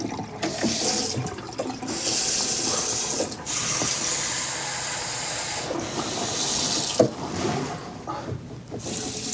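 Sink taps gush with running water that hisses steadily, with brief dips and surges as the taps are turned off and on again, close and fairly loud throughout.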